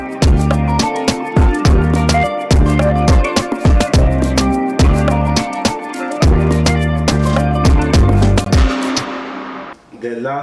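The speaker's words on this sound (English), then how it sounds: "everything together sounds like this, like with all the drums, the shakers, and the main melody" An Afrobeat instrumental built in FL Studio plays with punchy repeating drums, shakers and a melodic line in a steady groove, loud and upfront before cutting off near the end.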